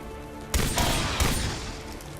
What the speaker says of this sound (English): Better shot with the pistol.